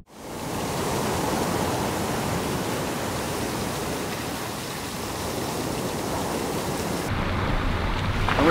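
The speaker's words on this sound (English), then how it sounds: "We're still here, waves are pumping." Ocean waves breaking at Cloudbreak, Fiji, a steady broad roaring wash of surf heard close and loud, continuous throughout with no voices.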